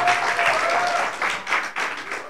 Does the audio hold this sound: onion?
no